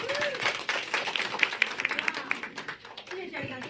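An audience at a live entrepreneurs' forum claps for Dr. Xiao in a burst of scattered, uneven hand claps that fades and rises again, with a voice speaking over it.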